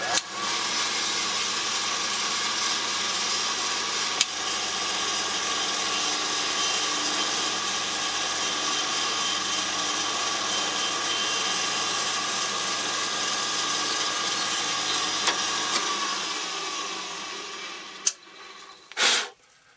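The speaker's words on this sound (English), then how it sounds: "I'm back at my drill press, and what I need to do now is drill my block" A drill press with an 1/8-inch bit whirs steadily at high speed drilling a block for most of the clip, then winds down with a couple of brief clunks near the end.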